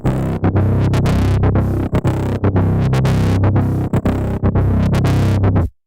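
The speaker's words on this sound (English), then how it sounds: "the kind of like the transgate effect that's going on with the actual sequencer" A distorted, buzzing synth bass is chopped into rapid rhythmic pulses by a trance gate effect on the sequencer, stuttering steadily for several seconds before stopping abruptly.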